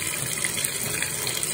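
Tap water runs steadily into a bath, a continuous broadband gush filling the tub at close range, with no talking over it.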